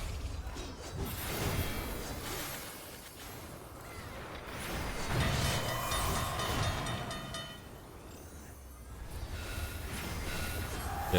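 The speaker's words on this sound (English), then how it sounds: "Get off the train tracks." A train in the Final Fantasy XIV video game rumbles past on its tracks, a loud sustained whoosh and rattle that swells twice over about eleven seconds, with no voices.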